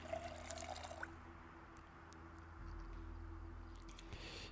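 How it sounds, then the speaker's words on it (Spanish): An empty cup filling with water in the survival video game Project Zomboid gives a quiet, brief liquid pour near the start, then only a low, steady hum remains. "Ah, llenar taza vacía, fantástico."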